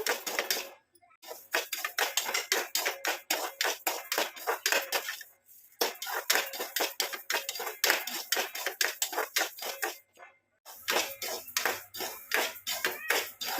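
A spoon scrapes and clinks against a pan as foxtail millet is stirred and roasted on low heat, a quick steady rhythm of close metallic scrapes with a few short pauses.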